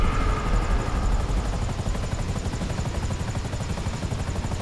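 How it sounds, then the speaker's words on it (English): Helicopter in GTA 5 Online, a steady, close rotor drone with rapid rhythmic chopping throughout, loud and constant with no talk over it. "Or his helicopter."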